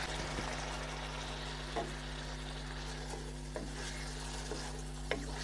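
Mutton being stirred with spices in a pot, a soft, steady scraping and stirring with faint sizzling throughout and a few light clinks of the spoon against the pot.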